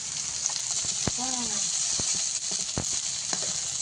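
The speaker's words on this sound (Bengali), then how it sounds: "দেখি মাছগুলো তুলে নিই, মাছগুলো ভাজা হয়ে গেছে।" Bele fish (sand goby) fries in hot oil with a bright, continuous sizzle and scattered crackles and pops, heard up close; a brief voice-like sound rises over it near the start.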